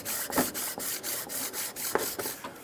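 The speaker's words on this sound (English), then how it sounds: "we're going to clean both sides using our sanding block" Rhythmic back-and-forth rasping of a sanding block scrubbing both sides of an engine spacer on a 2003-2008 Honda Pilot, about eight strokes in a steady, close-up rhythm.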